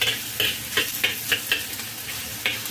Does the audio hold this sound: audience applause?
no